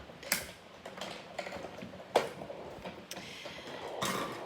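Stitched scallop dies being cranked through a manual die-cutting machine with paper, giving a series of faint clicks and mechanical ticks at an uneven pace, with a few sharper snaps standing out at close range.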